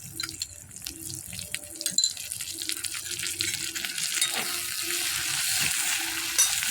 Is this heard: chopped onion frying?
yes